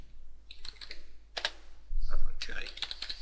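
Cursor keys on a computer keyboard tapped in a few scattered bursts of sharp clicks, close and fairly quiet, with a brief low thump in between.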